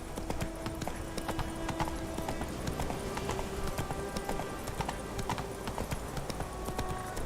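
Roach, a horse in The Witcher 3, trots with quick steady hoof clip-clops on hard ground, heard fairly close under game ambience and a faint voice.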